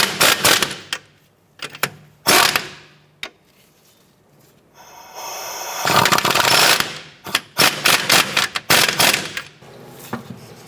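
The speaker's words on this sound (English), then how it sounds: "Let's go ahead and snug these bolts down." Bolts being snugged down on a 2006-2013 Chevrolet Impala during a CV axle replacement, heard as bursts of ratcheting and clicking tool noise, loud and close, separated by short pauses with a longer whirring stretch in the middle.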